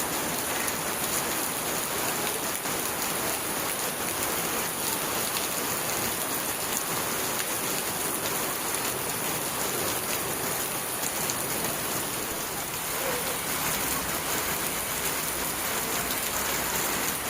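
Heavy May rain pours in Konkan, a dense, even hiss of drops drumming on surfaces that holds unbroken at close range throughout, with no voices.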